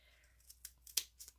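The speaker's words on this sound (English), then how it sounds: "I'm going to use my fringe scissors for today" Fringe scissors snipping paper ribbon, a handful of quick, crisp cuts spaced irregularly, close and fairly quiet against a faint background hum.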